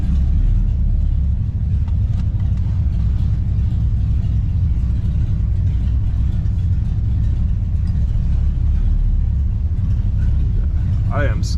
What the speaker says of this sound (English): This thing idles at like 800 RPMs.